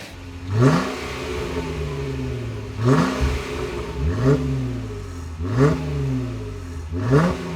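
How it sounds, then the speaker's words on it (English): A Jeep Wrangler JK fitted with a Gibson Deegan 38 dual split axle-back exhaust in black ceramic revs five times, each sharp rising blip falling back to a low, rumbling idle, heard up close. "The next system is the Gibson Deegan 38 dual split Axle-Back exhaust in black ceramic."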